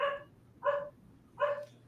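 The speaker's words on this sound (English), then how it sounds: "I'm really sorry about the dogs tonight" Indoor dogs barking during a Friday night live stream, three evenly spaced sharp barks, close and moderately loud, with quiet gaps between them.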